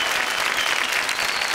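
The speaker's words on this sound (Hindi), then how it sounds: "जोरदार ताली।" A studio audience at a Bhojpuri singing competition show bursts into loud, dense applause, steady and close throughout.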